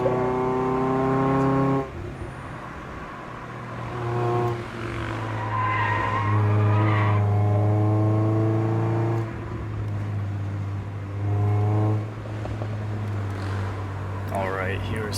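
A Mazda Miata driven hard through mountain curves on the Tail of the Dragon, its engine revving loudly up and down with drawn-out bursts of tire squeal as it carries speed through corners.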